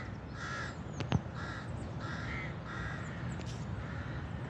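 Several crows caw repeatedly outdoors while being fed, each call a clear harsh burst spaced about half a second apart over a steady background hiss, with one sharp knock partway through.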